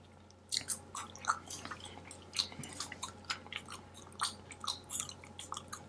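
Gum is chewed close to the mic in a quiet room, wet irregular smacks and clicks repeating every half second or so over a low steady hum.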